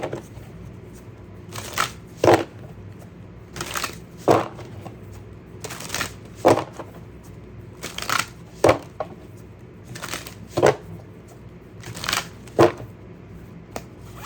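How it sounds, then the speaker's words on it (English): A deck of animal oracle cards is shuffled close up in a steady rhythm of short riffling bursts about once a second, with quiet pauses between and no talking. "let's grab an animal oracle card"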